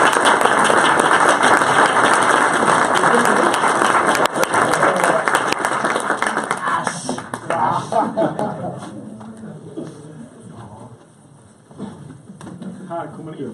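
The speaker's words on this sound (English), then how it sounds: "I think a huge applause would be in order." Huge audience applause at a Sweco corporate event, loud dense clapping that tapers off after about seven seconds into scattered claps and nearby chatter.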